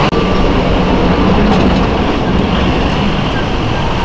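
A Sarajevo tram runs loudly and steadily on its rails up close, a continuous rumble of wheels and car noise with faint squeal, carrying on without a break.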